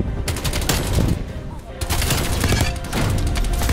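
Rapid automatic gunfire bursts in the video game Call of Duty: Black Ops Cold War, loud and dense with short gaps between volleys.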